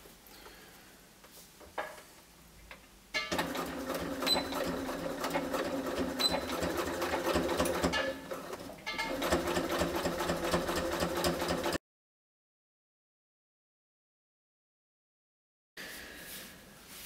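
A sewing machine stitches in the ditch along a trouser waistband, running in a steady rapid whir for several seconds after a quiet start, with a brief pause mid-run, then stopping before a short final burst.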